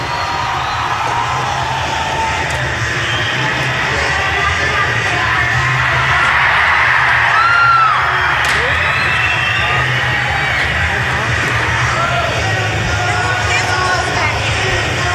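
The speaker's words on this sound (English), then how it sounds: "Let's hear some screaming from you people." A large crowd at a skateboarding ramp event screams, yells and cheers continuously, a loud sustained roar of many voices that swells slightly midway.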